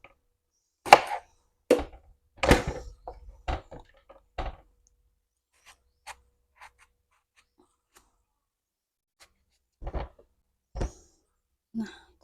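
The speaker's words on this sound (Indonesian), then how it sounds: "Ini mau bunda potong-potong dulu. Nah tempe, udang, sama terongnya ini" Tempeh, shrimp and eggplant are chopped on a board with a knife, a string of sharp, close thunks arriving in an irregular rhythm, first clustered and then spaced apart by long quiet gaps, with no talking.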